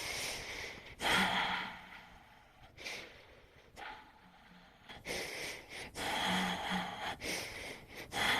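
Slow, controlled breaths during a Pilates reformer workout, soft inhales and longer airy exhales repeating in a measured rhythm, close and quiet.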